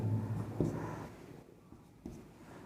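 A pencil drawing a line along a ruler on paper for a geometry construction, a soft close scratching stroke with a couple of light taps as the ruler is placed.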